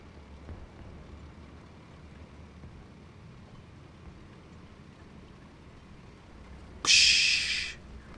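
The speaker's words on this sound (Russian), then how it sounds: "БК рванул." A tank's ammunition rack blows up in War Thunder, one sudden loud blast that roars briefly then fades, cutting through a low, steady rumble of engine and ambient noise.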